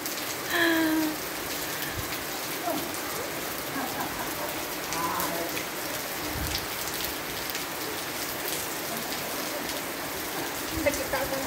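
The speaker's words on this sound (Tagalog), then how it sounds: "Kapag ganito kalakas ang ulan," Heavy rain pours steadily onto surfaces outdoors, a dense, continuous patter of drops at close range, with faint distant voices now and then beneath the downpour.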